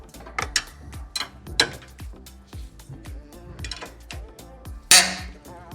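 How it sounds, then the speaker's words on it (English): A ratchet loosens 15 mm bolts on a front bumper winch receiver mount, giving close, rhythmic bursts of clicking with short pauses and one sharp metallic knock near the end. "I've got a ratchet and an impact. So we're gonna break these free."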